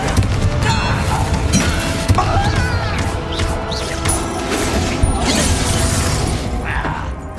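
Confringo blasting spells explode during combat in the Hogwarts Legacy video game, with repeated crashing blasts and smashing debris layered over busy game effects. Brief voice fragments may be heard under the steady clamour.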